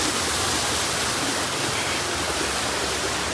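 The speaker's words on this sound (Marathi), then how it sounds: "तिकडे पण धबधबा आहे गाईज," A waterfall at Bhimashankar gives a steady, dense roar of rushing water. It sounds close and continuous, with no breaks and no voices.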